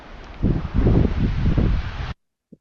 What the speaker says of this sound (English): And it started getting windy.